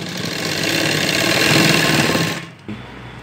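An electric sewing machine stitches along the edge of a fabric strip for a girl's top, a loud, close, rapid mechanical whirring run that stops abruptly near the end, leaving a brief quieter hum.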